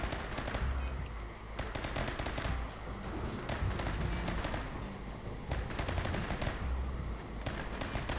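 Dense, continuous gunfire in a RimWorld Cthulhu colony fight: rapid machine-gun bursts and overlapping shots rattle steadily throughout, loud and close, with no voices.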